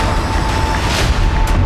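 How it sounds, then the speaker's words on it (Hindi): A loud, deep explosion from an Israeli strike near Tehran, with a broad rumbling boom that swells briefly and rolls on without a clear end. "इजराइल के प्रचंड प्रहार से भीषण विस्फोट हुआ"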